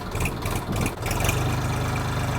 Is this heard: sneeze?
no